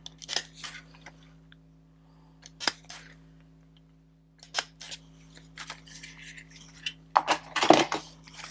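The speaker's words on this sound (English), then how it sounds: "I'm going to stick a staple in it." A stapler punches a staple through a paper junk journal pocket amid quiet crafting handling: scattered soft clicks and rustles, then a sharper, louder crunch of the staple near the end.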